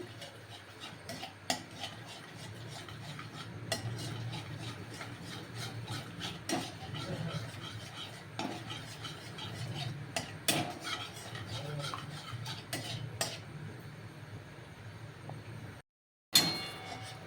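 Caramel for sweet curd is stirred in a pan with a metal utensil, giving repeated close scraping and clinking strokes in an uneven rhythm, steady throughout with a brief silent gap near the end.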